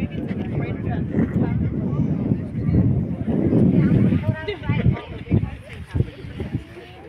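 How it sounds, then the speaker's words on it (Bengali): Strong cold wind buffets the microphone on a lookout tower above green water and a bridge in Burlington, Canada: a loud, continuous low rumble that swells and gusts, with voices underneath. "ঠান্ডা হাওয়া লাগছে প্রচন্ড"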